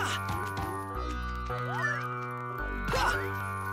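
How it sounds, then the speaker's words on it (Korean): Cartoonish cat meows from the microgame collection WarioWare: Get It Together!, with cats watching from above holding fish; a few stretched, swooping meows ring out over a steady electronic music bed. "위에서 고양이들이 생선 잡고 지켜보고 있다고."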